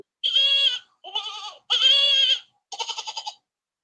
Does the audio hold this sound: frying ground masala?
no